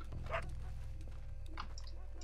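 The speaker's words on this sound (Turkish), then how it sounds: "Köpek." Dog in the video game Red Dead Redemption 2 barks and whimpers in a few short yips over a steady low game hum, fairly faint and somewhat distant.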